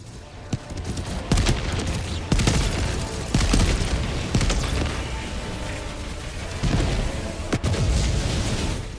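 Rapid gunfire and heavy booming explosions from robot tanks in Helldivers 2, with dense bursts and loud blasts repeating throughout over a constant rumble.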